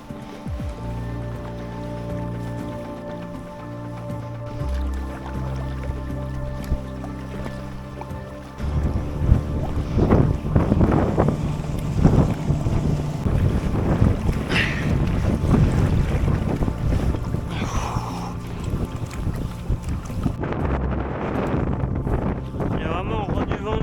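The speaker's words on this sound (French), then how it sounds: "Sinon, il y a pas mal de vent en face." Strong headwind on the Loire river roars and buffets against the microphone throughout, with water and boat noise underneath, getting rougher and louder partway through.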